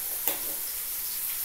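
Mixed vegetables fry in oil with salt and turmeric under a steady, close sizzle. One quick stir of the spoon clicks against the pan early on.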